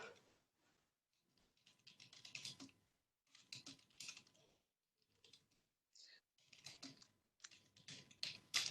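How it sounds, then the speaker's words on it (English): Someone types on a computer keyboard in short bursts of quick clicking and tapping, with quiet pauses between the bursts. "Because I'm typing"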